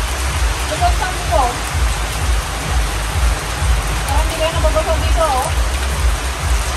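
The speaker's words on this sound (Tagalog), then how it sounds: "umulan na, nakasang ulan, ayun na ang bagyo" Steady heavy rain falls in a broad, continuous hiss close to a fish pond during a storm, with faint voices in the background.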